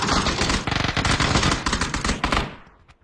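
Rapid automatic gunfire rattles in dense bursts, loud and close, then cuts off and fades with a few trailing echoes, with no talking over it.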